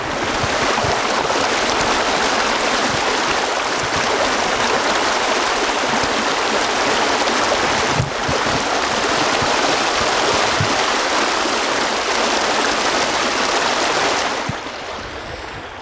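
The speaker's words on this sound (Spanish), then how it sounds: "mayor caudal de agua en este momento está pasando" Floodwater from the 2017 flooding in General Villegas rushes strongly past in a loud, continuous broadband roar that stays steady throughout and eases slightly near the end.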